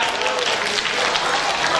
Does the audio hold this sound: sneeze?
no